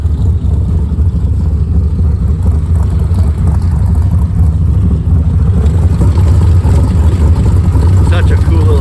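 A 1961 Ford Falcon engine runs steadily with a loud, continuous low rumble at close range as the car backs out, with some voices faintly under the noise.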